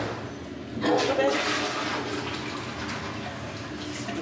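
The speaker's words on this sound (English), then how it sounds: "The toilet's flushing." A toilet flushes nearby in a home, a steady rushing of water that swells after the first second and then holds as a continuous wash.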